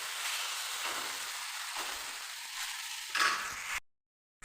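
Ridge gourd drops into spice paste frying in a pan, giving a steady, faint sizzle with a brief louder crackle near the end before the sound cuts off abruptly.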